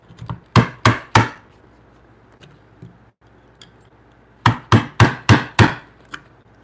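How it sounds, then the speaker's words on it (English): Firm chisel strikes chop a square mortise in timber for a timber-frame bunk bed: a burst of three sharp, close knocks, a few light taps, then a quick run of five blows and one final hit. "Going straight down with some firm chisels to make sure that I've got a square entrance there."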